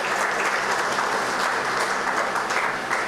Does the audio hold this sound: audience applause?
yes